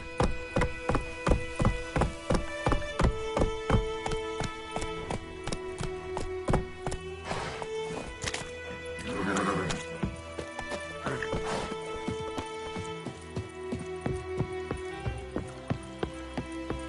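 Roach, Geralt's horse in The Witcher 3, gallops at speed: steady, rapid rhythmic hoofbeats, fairly close and prominent, under a continuous layer of music and ambient game sound.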